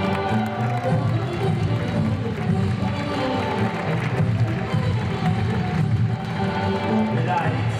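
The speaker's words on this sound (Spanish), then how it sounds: "¡Aplaudimos!" An audience applauds after teachers are named at a show, steady clapping and crowd noise mixed with music and voices, fairly loud and continuous.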